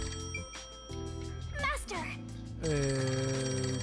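A telephone in the video game Master Detective Archives: Rain Code rings in repeated electronic bursts over game music, with a short voiced exclamation in the middle.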